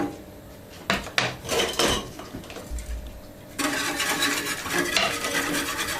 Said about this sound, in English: Now what you need to do is whisk it until it comes up to the boil